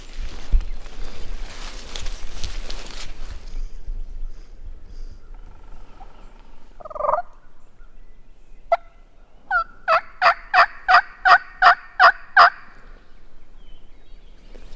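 A wild turkey gobbles in the distance, a rapid burst of repeated gobbling notes after a quieter call, outdoors on public land in Mississippi with light rustling.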